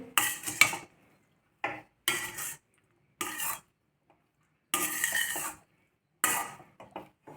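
Rice and brinjal masala are stirred together in a pan with a metal spoon. The scraping comes in short, close bursts separated by near-silent pauses.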